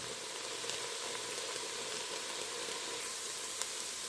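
Andouille sausage sizzling and frying in a pot of sweated vegetables for clam and scallop chowder, a steady close crackle with small pops throughout.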